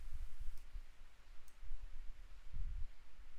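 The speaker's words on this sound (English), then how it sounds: "double click it" Computer mouse double-clicked while building a sticky bomb in Unreal Engine 5.2, giving a couple of faint, sharp clicks over a low room hum.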